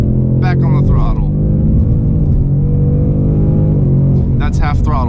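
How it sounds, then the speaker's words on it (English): A Ford Mustang Mach 1 with a 5-liter V8 pulls at half throttle, its steady loud engine drone rising slightly in pitch as it accelerates, with someone talking over the rumble. "That's half throttle, by the way."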